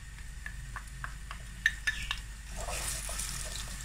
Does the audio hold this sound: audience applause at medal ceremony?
no